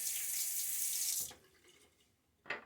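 A shaving bowl rinsed under a running tap: a loud steady rush of water stops abruptly, followed by quiet, then a brief splash near the end.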